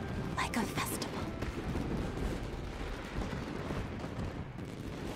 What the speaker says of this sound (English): All those fireworks were really loud as hell.